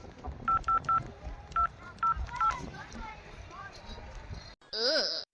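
Several DTMF telephone keypad tones beeping in a quick irregular sequence as a number is dialed, followed by a louder ringing tone, with a faint indoor background murmur.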